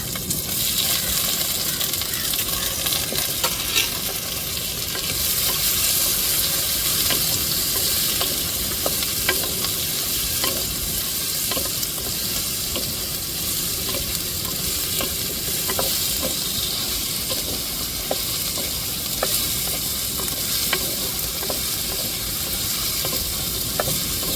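Chopped brinjal and raw mango frying in a tempering of hot oil, a dense, constant close sizzle and crackle with faint spoon stirring throughout, no voices.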